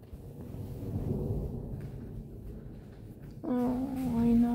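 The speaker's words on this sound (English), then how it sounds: "That is proper thunder, isn't it, Tuff?" Low rumbling thunder rolls through a thunderstorm, fairly loud and sustained, then a high, tonal squeal or voice-like sound rises over it near the end.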